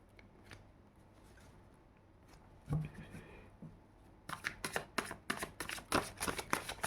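Tarot cards are shuffled in a quick, crisp burst of riffling flicks near the end, after a quieter stretch with a single card being handled and a soft voice speaking.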